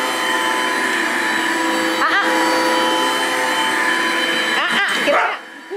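A vacuum cleaner drones steadily and loudly close by during dining room cleaning, its whine holding constant before cutting out near the end; a dog's faint yelps interrupt briefly.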